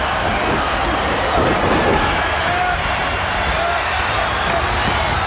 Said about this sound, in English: listen to this capacity crowd coming to their feet almost